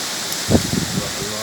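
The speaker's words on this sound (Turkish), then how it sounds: "böyle yağmur hiç görmedim ben ya Rabbim" A dense, steady hiss of heavy rain in Eskişehir, Turkey pours down, with a brief voice rising over it.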